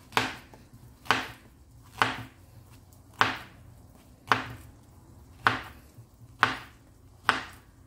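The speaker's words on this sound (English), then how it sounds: "take that off, give it a chop" A knife chops through sweet plantains on a board, eight crisp, evenly spaced strokes roughly a second apart, close and clear with no talking.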